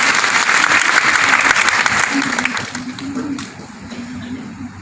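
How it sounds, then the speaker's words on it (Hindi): Applause from the audience at a nutrition campaign closing ceremony and beauty competition, a dense wash of clapping that starts loud and slowly fades, with a voice speaking faintly beneath it toward the end. "अगर प्रस्तुति पसंद आई हो तो जोरदार तालियां बजाइए"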